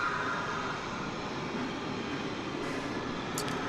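An Airbus A321 airliner arriving from Orlando lands at DFW airport, a steady broadband engine roar held at an even level throughout, with no voices.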